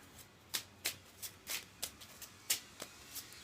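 Oracle cards shuffled by hand in quick, uneven bursts of crisp riffling, about a dozen sharp flutters over a quiet background, close and fairly soft.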